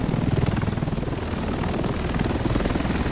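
A helicopter in The Division video game, a loud continuous rotor drone with steady low chopping pulses, close and alone.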